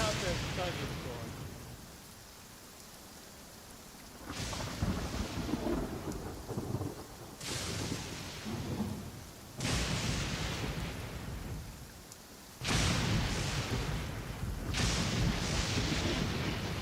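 A thunderstorm with rain in the Genshin Impact game world: repeated heavy thunder crashes and rolling rumbles about every few seconds over a steady rain hiss, loud and near.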